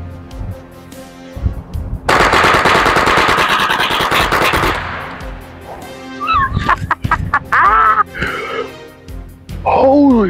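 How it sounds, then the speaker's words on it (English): A full-auto rifle with a switch fires a long rapid burst, loud and close for a couple of seconds, followed by excited shouting and whooping voices with a few more bursts of noise. "I just unloaded 50 rounds in 1 to 2 minutes"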